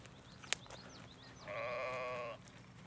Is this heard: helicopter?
no